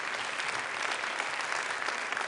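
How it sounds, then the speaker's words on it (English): Audience applause at the One Health Summit in Lyon, a dense, steady clapping from a room full of people that holds at an even level throughout, with no talking over it. "I want to give a very big applause to all of them and to all of you for this very interesting journey"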